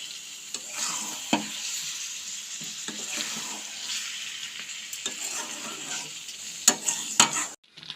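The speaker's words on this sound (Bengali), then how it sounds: "সজনে ডাঁটাগুলো দিয়ে দেওয়ার পর একদম হালকা হাতে নাড়িয়ে নিতে হবে" Drumstick (moringa) pods being gently stirred in a pan of sizzling spiced oil for a sweet-sour pickle, a steady bright fry hiss with soft scraping strokes and a few sharper utensil knocks near the end.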